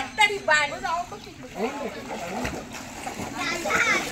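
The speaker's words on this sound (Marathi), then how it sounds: "पोहायला पण सुरुवात केली इकडे जयने." Water splashing in an outdoor swimming pool at a farmhouse as someone swims, brief splashes and sloshing under lively talk and children's voices nearby.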